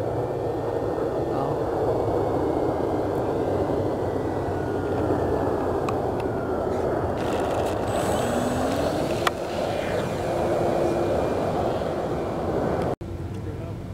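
A ParkZone T-28 Trojan RC model airplane fitted with 180 LEDs flies at night, giving a steady droning motor hum with a whine that rises and falls in pitch over a constant wash of background noise.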